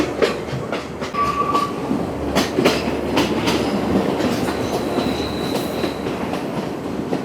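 A train rolls steadily along a zigzagging mountain railway in Sri Lanka, between Ella and Ambewela, with a continuous rumble, rhythmic wheel clatter and occasional faint squeals, no voices.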